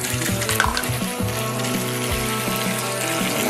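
Water pours and splashes into a toy boat race track, a continuous running and filling sound up close, accompanied by a prominent tonal background with a distinct splash near the start.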